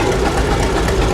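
A large two-cylinder tractor engine of 336 cubic inches runs steadily, a loud, continuous low rumble with an even chugging throb filling the whole moment, no voices over it.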